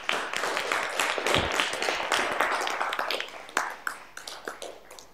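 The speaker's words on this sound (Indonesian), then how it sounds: "Tepuk tangan." Audience clapping after a group's project presentation in a classroom setting, a dense spread of hand claps lasting several seconds, fairly even in level and close by, with no talk over it.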